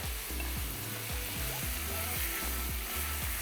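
Ginger-garlic paste sizzles in hot oil with onions over a high flame for a Nihari dish, a continuous close frying hiss with a steady rhythmic scraping and stirring beneath it.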